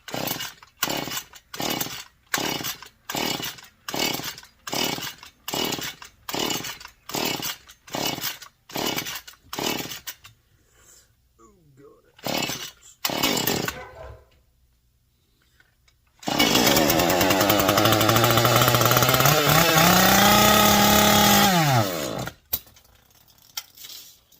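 A modified Husqvarna 435 chainsaw sounds close and loud, first in a steady run of short revving bursts, then after a brief lull in one sustained high-pitched roar at full throttle that cuts off abruptly.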